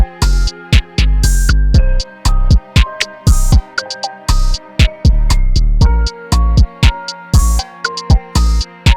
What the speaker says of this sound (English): This is a string preset from Omnisphere.